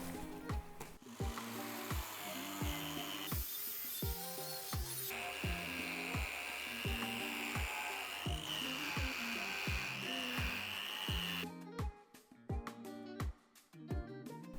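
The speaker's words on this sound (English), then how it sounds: "Let's see how this wire brush removes the rust." A steel wire brush scrubs rust off a steel surface in quick, rhythmic back-and-forth strokes, a close, harsh scratching that repeats steadily before a brief choppier stretch near the end.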